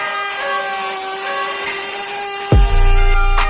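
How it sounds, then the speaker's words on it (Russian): Wood router trimming clamped wooden workpieces to matching size, with a steady close motor whine and a sharp low thump as the cut shifts partway through. "И теперь при помощи фрезы буду подгонять заготовки."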